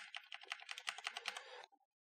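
Computer keyboard keys for shortcuts in After Effects are pressed in a rapid run of about a dozen crisp, close clicks and taps, then stop abruptly into near silence.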